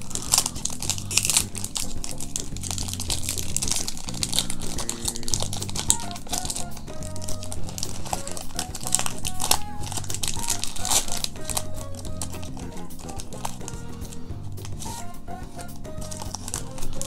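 Crinkly foil wrapper of a Pokemon Brilliant Stars booster pack being handled and torn open, a close, busy stream of crackling and rustling that lasts throughout, with no talking.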